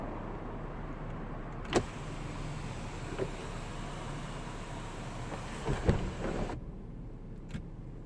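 Electric sunroof on a 2018 Jaguar XF sliding closed inside the quiet cabin, a steady motor whir running for several seconds before stopping, with a few faint clicks and no talking.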